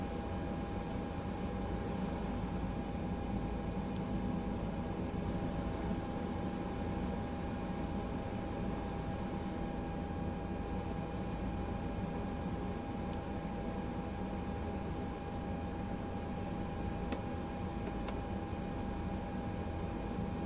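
An ATR 72-600 turboprop at Suva, Fiji, in Microsoft Flight Simulator drones with a steady, unbroken engine hum while taxiing, constant in loudness throughout with faint occasional ticks.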